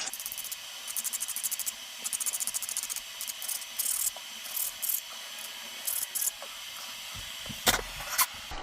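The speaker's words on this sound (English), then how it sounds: "I'm going to grab a little finer file and just roll off any burrs that may be on the end of this shaft" Short repeated bursts of metal rasping as a fine file works burrs off the end of a Hobbywing RC motor shaft, each stroke a brief scrape in a steady rhythm over a faint hum, close and quiet.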